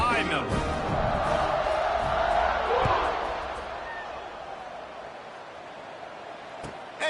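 Stadium crowd roaring at kickoff in the video game College Football 26, a steady loud swelling roar that peaks then eases, with a sharp thump partway through and a commentator talking over it.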